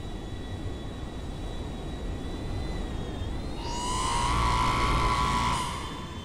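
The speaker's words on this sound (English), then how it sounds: "Taking out a plane with an EMP." A plane is knocked out by an EMP in GTA 5, a steady whirring aircraft engine hum that gives way to a louder roaring, descending burst of engine noise near the end, with no talk.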